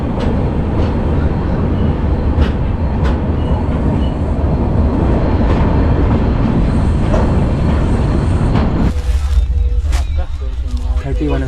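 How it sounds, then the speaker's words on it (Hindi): Rajdhani Express running, heard from inside a 3rd AC coach departing Dibrugarh: a steady loud rumble of wheels and carriage runs throughout, with faint voices in the background and a change in tone near the end. "अपनी राजधानी एक्सप्रेस निकल चुकी है डिब्रूगढ़ के 1 नंबर प्लेटफॉर्म से"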